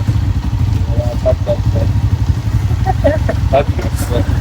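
A Honda 125 motorcycle engine runs steadily at idle close by, a constant low putter with faint clatter throughout.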